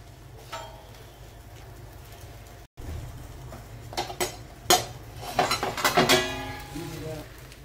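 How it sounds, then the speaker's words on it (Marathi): A lid is lifted off a pan where fish fries wrapped in banana leaf, with a low background hiss, then a run of metallic clinks and clatters of lid and utensils against the pan toward the end. "मी झाकण काढून घेणार आहे"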